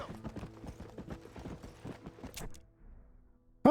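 Hooves of a legendary horse of the apocalypse clip-clop in Red Dead Redemption: Undead Nightmare, set in winter, with a quick, even gait that fades out before a short loud burst at the end.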